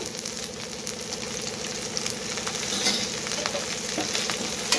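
Onions fry in a little oil in a pan for brinjal chutney, giving a constant close sizzle with occasional stirring scrapes and a low background hum, no one speaking.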